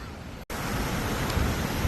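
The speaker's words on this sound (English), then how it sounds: "The waves are pretty rough today" Rough waves break at Pointe Aux Barques Lighthouse and Life-Saving Station, a steady broad wash of surf with wind noise on the microphone, broken by a brief dropout near the start.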